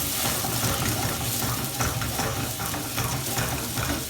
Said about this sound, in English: A little bit of white wine or champagne. We're going to boil the alcohol off